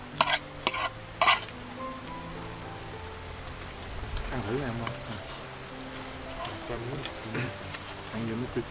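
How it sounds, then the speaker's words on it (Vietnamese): Pork belly fries over low heat in a pan outdoors, giving a gentle, continuous sizzle with occasional sharp ticks and stirring, while people talk throughout. "Nên mình chiên á, mình để lửa riu riu à, không dám để lửa lớn cho chín thịt á."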